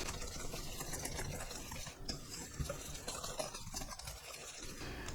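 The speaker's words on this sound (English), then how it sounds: "Now let's blend those together." White flour and granulated sugar being blended together in a bowl, a faint, steady soft stirring and scraping that carries on without pause.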